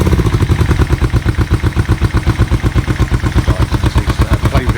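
A Kawasaki EN450 bobber motorcycle engine, running poorly, idles close by with a loud, steady, rapid lumpy chug and mechanical clatter, pulsing evenly throughout.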